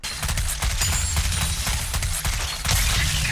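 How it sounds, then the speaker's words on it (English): In League of Legends, Dr. Mundo's Heart Zapper goes off as a crackling electric burst followed by a dense, rapid run of zapping, popping impacts, loud and continuous over a low droning hum. "But there's the explosion, and Dr. Mundo can recast Heart Zapper to end its effect early"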